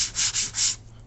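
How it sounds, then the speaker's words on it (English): Sandpaper rubs along the edge of a Depron foam sheet held flat on a table, giving three smooth, close, hissing strokes before stopping, alone and moderately loud. "just using the tables to support the Depron as you're doing the sanding"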